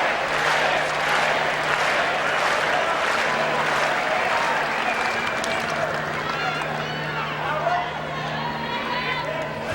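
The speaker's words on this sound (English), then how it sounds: "And the American crowd now beginning to get behind Spadea" Tennis crowd at the Indian Wells 2003 semifinal between Hewitt and Spadea claps and cheers loudly in a large outdoor stadium, with scattered shouts and murmur that slowly fade, under a commentator's voice.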